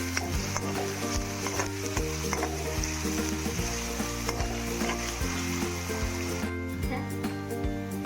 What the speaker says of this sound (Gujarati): હવે આપણે અંદર ડુંગળી નાખીશું ડુંગળીને આપણે થોડી આપણે શેકી લઈશું